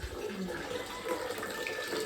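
Hot water pours steadily from a tap into a bucket, a continuous splashing stream with a faint echo, close by and without speech.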